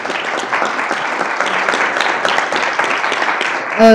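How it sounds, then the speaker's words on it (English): An audience applauds a guest speaker at the end of a talk, steady dense clapping held at a moderate level throughout, close and continuous. "Let's give one more round of applause to our guest speaker today."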